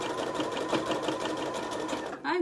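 Sewing machine running a zigzag stitch on a hot water bottle cover: a steady, close rapid whirring with fast regular needle pulses, ending with a brief higher mechanical whine.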